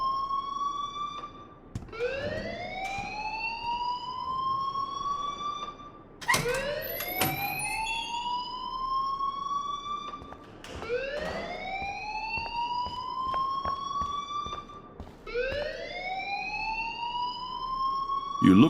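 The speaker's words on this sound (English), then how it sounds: "please turn off that alarm since that's your job" A school fire alarm in the video game Life is Strange wails in repeated rising sweeps, about four cycles, loud and continuous with sharp clicks between them.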